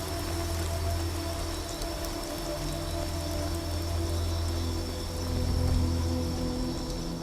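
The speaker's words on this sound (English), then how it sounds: "Okay, then the rain stopped." Steady rain pours down in the video game Skyrim, a dense, even hiss of falling water that holds at a constant level for several seconds with no voices over it.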